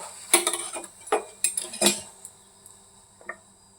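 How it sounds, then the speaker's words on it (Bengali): A knife cuts an egg paratha on a metal plate, giving a handful of sharp clinks and scrapes in uneven bursts, then a quieter tick near the end. "এবার একটু ছুরি দিয়ে এইভাবে কেটে নেব।"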